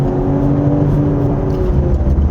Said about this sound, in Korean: 엑셀을 놨다가 재가속할 때 엔진이 좀 더 대기 상태에 있는 것 같습니다